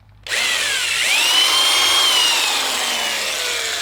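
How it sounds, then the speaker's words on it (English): A power drill bores into the end of a wooden piece, making a dimple for wood lathe work on a baseball in a wood shop; the motor whines up loudly after a brief quiet start, then holds a steady, close, continuous grind. "And drill it down until you actually make a dimple on the end"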